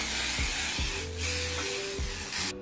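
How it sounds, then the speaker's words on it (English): Continuous hissing spray from an aerosol can of Aussie Headstrong Volume hairspray onto hair, steady and close, broken by a brief pause before trailing off. "Okay, so we're going to hairspray our hair."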